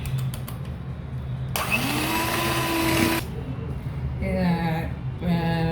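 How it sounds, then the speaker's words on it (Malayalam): Electric hand mixer running on high speed, beating unsalted butter and sugar for a cake, a steady close whirring drone that shifts in pitch as the beaters work through the mixture, with no talk over it. "നമുക്ക് ആദ്യം ഇത് രണ്ടും കൂടെ ഓൺ ഹൈ സ്പീഡിൽ ഇത് വെച്ച് മിക്സ് ചെയ്യാം."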